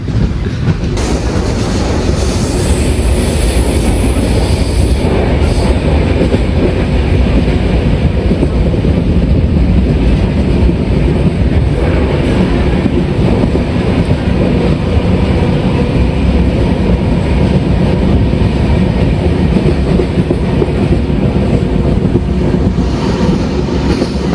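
The Aronai Express passenger train rolls along loudly and close by, with continuous rumbling and rhythmic wheel clatter on the tracks.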